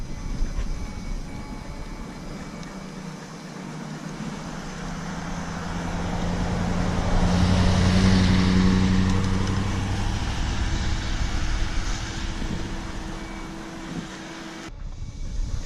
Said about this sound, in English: Look, that's got a car coming kind of quick.